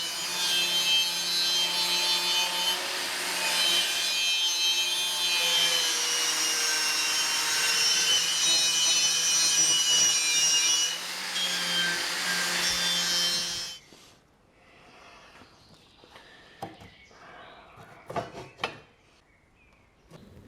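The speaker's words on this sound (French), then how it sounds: "la brosse métallique sur meuleuse d'angle est le plus adapté" An angle grinder fitted with a wire brush scours 45 mm steel tubes, a loud sustained abrasive whine with shifting pressure for about thirteen seconds, then the motor winds down and light handling clinks follow.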